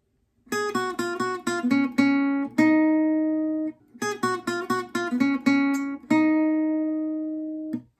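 A clean electric guitar plays a short section of the riff from a song on a looper, quick plucked notes ending on a held chord, then repeats the same phrase once.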